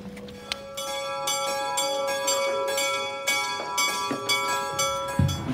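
Church bells ring out in a continuous peal, overlapping strikes leaving long ringing tones, loud and clear without any voices.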